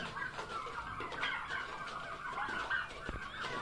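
Turkeys on a farm give off steady clucking and gobbling calls, dense and fairly close, with overlapping birds calling throughout and no talk.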